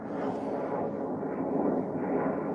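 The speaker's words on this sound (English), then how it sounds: "That was a private jet that went by." A private jet passes overhead near a Boeing site, heard from a backyard at night as a loud, continuous broadband roar that holds steady and swells slightly toward the end.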